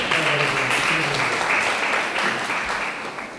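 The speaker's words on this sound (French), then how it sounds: "Je demande encore une fois des applaudissements pour lui parce que c'est pas facile" An audience at a literature exhibition bursts into loud, dense applause that slowly fades over a few seconds, with a voice faintly audible beneath it.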